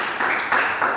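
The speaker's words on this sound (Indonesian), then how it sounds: "Tepuk tangan yang meriah" Church congregation applauding, a steady wash of hand claps swelling in three loud waves across a single second, dense and close with no voices on top.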